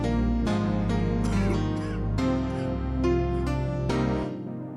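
In FL Studio, a synth bass line shifted up an octave pulses in a repeating pattern beneath bright layered synth chords and sharp hits, loud and close, cutting off at the end.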